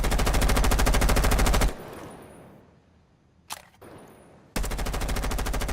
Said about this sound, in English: let's check out the recoil from the assault rifle, the C7E